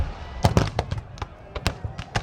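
Musket fire crackles at the 150th Gettysburg battle reenactment during Pickett's Charge: a rapid, irregular string of sharp gunshot cracks, some overlapping in ragged volleys, heard at mid-distance over an outdoor field.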